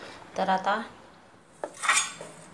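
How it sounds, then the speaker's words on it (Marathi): Instant idli batter made from Chitale mix being stirred in a bowl: a spoon scrapes and clinks against the bowl in two short bursts, close up, with a moment of quiet between them. "तर आणखी आता एकदा हलक्या हाताने मिक्स करून घ्यायचं।"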